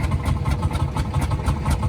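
An old 1932 tractor engine runs with a steady, loud, rapid thudding beat, close by, without talk over it.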